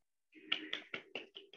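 A short round of hand clapping on a Zoom call, about six distinct claps in an uneven rhythm, close and fairly soft, with no talk over them.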